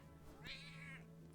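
A single cat meow rises and falls close to the microphone, one short clear call over a quiet steady background hum.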